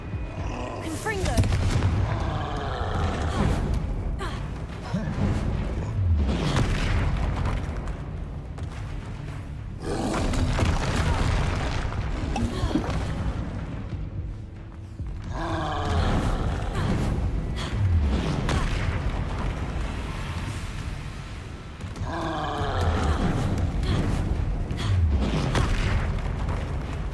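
Repeated booming magical blasts from the Confringo explosive spell in Hogwarts Legacy on hard mode, loud bursts recurring every few seconds over continuous roaring combat noise and music-like layers.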